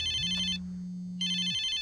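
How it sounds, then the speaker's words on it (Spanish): A telephone rings with a bright electronic trill in two bursts separated by a gap, accompanied by a low steady hum and heard close and clear with no talk. "a las 3 en punto, timbró el teléfono"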